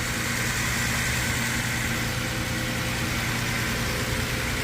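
Infiniti G37 engine with its exhaust silencers removed, a loud, steady, rumbling drone holding close and even throughout with no voices.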